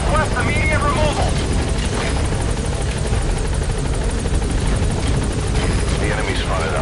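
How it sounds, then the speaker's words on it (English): The helicopter in the video game Metal Gear Solid V gives a loud, steady rotor drone throughout, with radio voice chatter over the top. "The enemy spotted our chopper."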